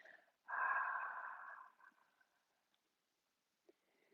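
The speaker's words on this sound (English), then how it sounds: "open your mouth and ha as you exhale" A single long open-mouth 'ha' exhale follows a nasal inhale during a breathing exercise. It is soft and close, lasts just over a second, then fades to near silence with a couple of tiny clicks.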